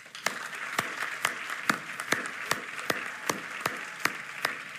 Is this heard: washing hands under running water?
no